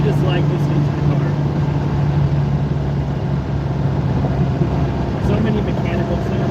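Lamborghini Countach engine droning steadily from inside the cabin while driving, a constant low hum with a strong tonal note and mechanical whir, a couple of faint clicks near the end.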